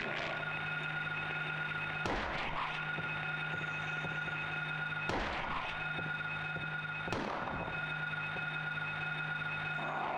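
Gunshots in the Silent Hill video game, three loud, sharp bangs spaced about three seconds apart over a constant droning, tonal background hum.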